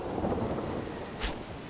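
Steady rain hisses through a scene in an audio drama, with a low rumble of thunder underneath and a brief crack of noise near the end, with no voices.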